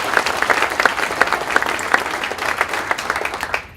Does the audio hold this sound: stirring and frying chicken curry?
no